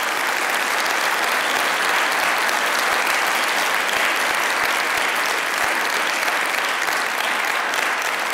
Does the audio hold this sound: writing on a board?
no